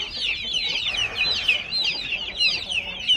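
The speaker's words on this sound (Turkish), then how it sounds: "Anne tavuk oraya gidiyor." Chickens in a coop cluck continuously and busily at close range, with overlapping calls and faint background noise.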